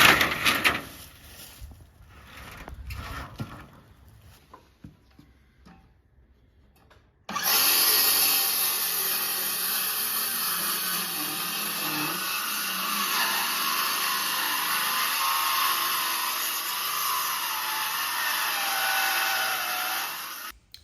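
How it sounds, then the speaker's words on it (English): A planer roars as a slab of 1.5-inch Carolina pine lumber is fed through it, with a steady loud whine starting partway in after quieter shop noises. "we're going to go select a little bit of lumber, run it through the planer"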